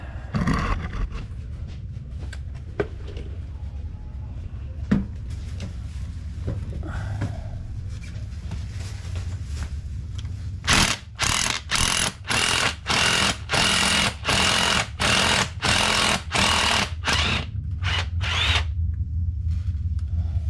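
A power tool drives against a fine-threaded nut on a car A/C compressor clutch, first a steady whirring under workshop noise, then a run of about a dozen loud, evenly spaced bursts from the tool.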